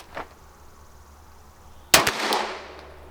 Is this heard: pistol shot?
yes